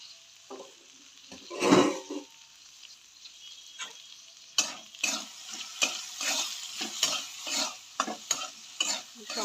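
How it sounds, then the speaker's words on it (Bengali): Vegetables with spices being stirred in a frying pan: a soft sizzle underneath, a louder scrape near the start, then a rapid series of close utensil scrapes and clinks against the pan in an irregular rhythm. "সবগুলো একসাথে মিক্স করছি।"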